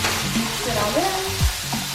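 A spoon stirs roasted red potatoes sizzling in a pan, giving a steady frying hiss with a few soft scraping strokes and one louder knock partway through, close and continuous.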